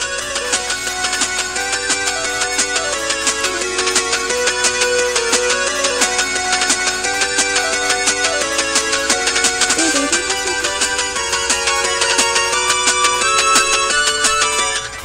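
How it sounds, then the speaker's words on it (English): A phone ringtone plays loud and continuous for about fifteen seconds, a busy electronic melody with a steady beat and no talking over it. "That may or may not be my ringtone."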